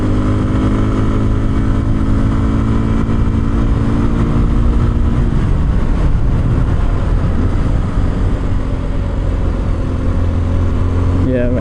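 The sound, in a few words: Kawasaki KLX 230 Sherpa S motorcycle riding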